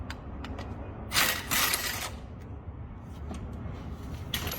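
A ratchet wrench loosening the bolts of an oil filter mount on a Toyota Previa engine: short clicking bursts and a couple of longer metallic rattles, close and moderately loud, in a quiet workshop.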